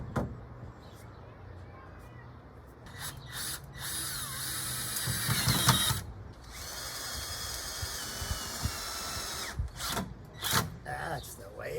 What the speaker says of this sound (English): I set the drill at 45-degree angles so I can put the screws into the